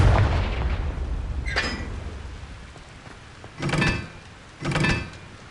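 In Hogwarts Legacy the Confringo fire spell is cast over a loud, dense game backdrop, with a sharp whoosh and then two heavier, booming bursts a second apart.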